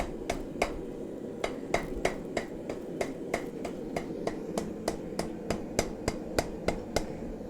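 A hammer drives spikes with steady, evenly spaced sharp blows, about two per second, repeating for several seconds at moderate distance with no talking.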